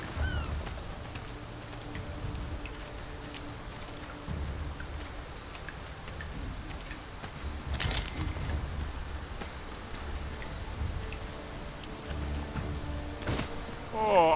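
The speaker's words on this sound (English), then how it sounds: "Must it rain now? Rain has a way of dampening one's mood." Steady rainfall in the fantasy game Dragon's Dogma 2, a dense continuous patter of drops with a few brief louder bursts, heard on its own without talk.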